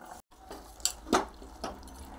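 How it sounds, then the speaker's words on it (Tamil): Water is poured into a fish curry cooking in a pot, giving a few short splashes and trickles, close by, over a low kitchen background. "அதனால் நம்ம இன்னும் கொஞ்சம் தண்ணி சேர்த்துக்கிடுவோம்"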